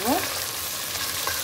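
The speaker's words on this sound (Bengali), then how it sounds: "মশলাটা কষিয়ে নিলাম, তেলটা উপরে উঠে এসছে" Spice paste (masala) frying in oil in a pan, a dense continuous sizzle with a brief stirring scrape at the start.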